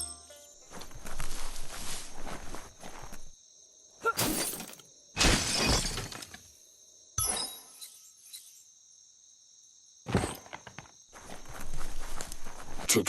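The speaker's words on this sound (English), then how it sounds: "You shouldn't worry about smashing up the box" A box is smashed apart in the video game Biomutant: several separate bursts of crashing and shattering debris, some long and some short, with quiet gaps between them and no talk.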